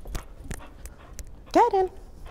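An agility dog lets out one short, high whimper late in the exchange, close and distinct after a trainer's quieter speech and soft shuffling.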